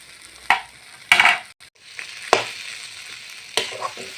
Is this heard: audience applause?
no